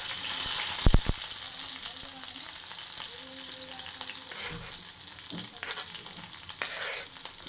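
Green chillies, onion and curry leaves sizzle in a pan while cooking a dry ridge gourd stir-fry, with a steady hiss broken by a few sharp spoon-against-pan clinks near the start and scattered scraping stirs.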